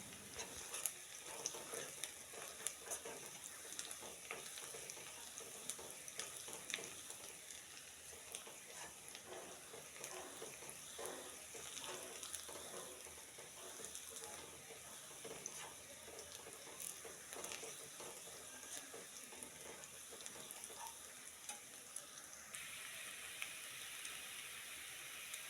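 Onion and fish fry in a pan with a faint, continuous sizzling hiss, broken by small crackles and occasional stirring sounds over a long stretch.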